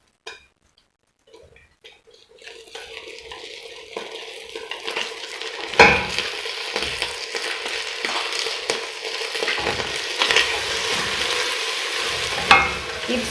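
Sugar and Blue Band margarine stirred in a pot for caramel popcorn, a steady close sizzle with continuous scraping of the spoon that gets louder after a quiet start, with a few sharper clinks.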